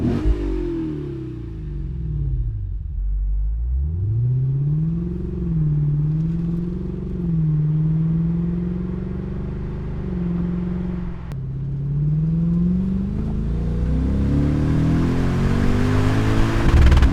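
A Lexus ISF V8 on its stock exhaust revs in long, rising and falling sweeps with a deep rumbling idle between pulls, loud and close, ending in a higher climbing rev.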